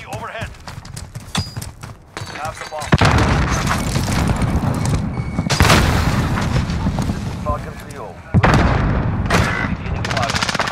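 Gunfire from a Call of Duty: Modern Warfare search-and-destroy match, loud booming shots and sharp cracks recurring irregularly over game ambience, with players talking throughout.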